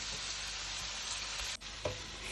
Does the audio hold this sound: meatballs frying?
yes